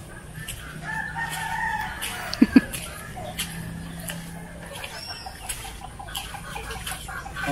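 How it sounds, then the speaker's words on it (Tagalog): Chickens clucking with a rooster crowing around a rural home, bird calls scattered throughout with two sharp close calls near the middle, while people talk in the background. "Puro manok."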